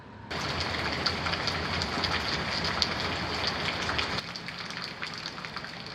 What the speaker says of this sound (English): It's gloomy, it's raining